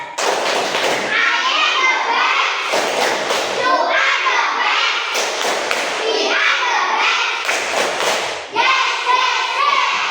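Elementary pupils in a maths classroom perform a rhythmic clapping ice-breaker, sharp group claps striking in regular bursts between loud choral chanting by the children.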